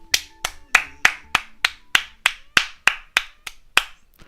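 Hands clap in a steady rhythm, about thirteen sharp, evenly spaced claps over four seconds, close and crisp with no talking.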